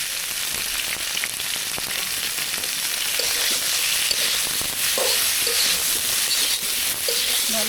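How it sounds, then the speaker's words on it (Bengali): Cauliflower seasoned with turmeric and salt fries in a pan with a constant moderate sizzle, punctuated by occasional stirring scrapes and small crackles. "ভাজা হয়ে গেছে ফুলকপি"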